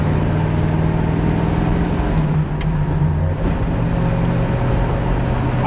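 A Pontiac Trans Am with a 455 engine and 4-speed manual drives along, its steady low engine drone and road rumble heard from the interior, constant and fairly loud.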